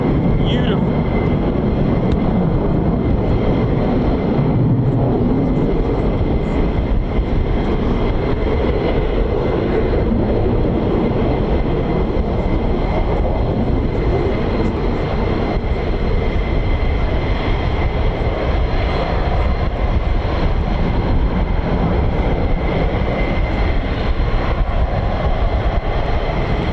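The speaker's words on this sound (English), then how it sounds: "you may notice the afterburner been taken off and then put back on" F-15 and F-35 fighter jets at RAF Lakenheath roar continuously and loudly, one with its afterburner cut and relit during departure, while voices talk over the noise.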